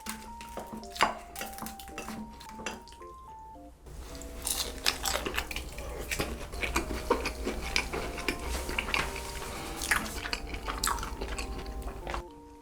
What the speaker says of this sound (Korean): 쭈꾸미랑 이렇게 먹으면 그렇게 맛있다고 한참 유행이었었는데 제가 한번 먹어볼게요.